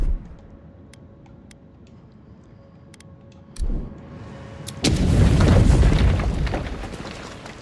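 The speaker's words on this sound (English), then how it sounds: "Oh, grenade time." A grenade explodes in the fantasy video game Avowed: a sudden loud boom strikes partway through, followed by a heavier, sustained blast and rumble that stays loud to the end over low background game ambience.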